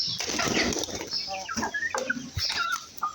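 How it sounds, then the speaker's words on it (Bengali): Pigeons feeding, about twenty-five pairs, with bursts of wing flapping and scattered low cooing and rustling, fairly close, no talk. "এখানে কবুতর আছে"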